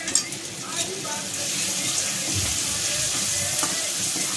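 Yellow masala with coriander powder sizzling in oil for an eggplant dish, a steady bright fry with a few small pops and clatters near the start, alone without talk.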